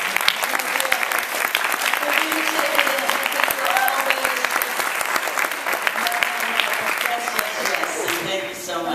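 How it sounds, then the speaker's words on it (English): A lecture audience gives a sustained round of applause, thick, even clapping filling the room from start to finish while faint voices run beneath it. "I just want to lead another round of applause for all the ones who are always"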